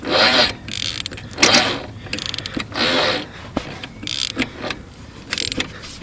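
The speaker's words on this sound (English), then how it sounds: "Now going counterclockwise, you hear that click" A seized engine on a 2000 Kawasaki Lakota ATV is turned over by hand, giving repeated close clicks and grinding mechanical scrapes in short bursts with brief pauses.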